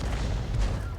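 Artillery gun in a tank video game firing a round, a single short heavy boom with a low rumbling tail, close and loud.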